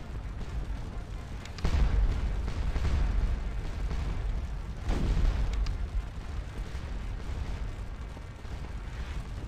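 Cannon blasts from an artillery piece in a Napoleonic Waterloo-era battle game, two heavy booms around two and five seconds rolling out over a low rumbling battlefield ambience, with no talk.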